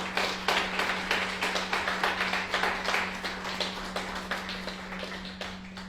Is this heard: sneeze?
no